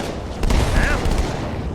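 A burst of rapid gunfire in a Halo video game crackles loudly and densely, shots overlapping in a sustained volley with a faint higher tone threading through.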